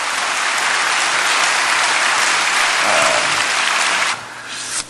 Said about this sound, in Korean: 우리 하나님께 다시 한번 큰 박수 한번 올려드립니다.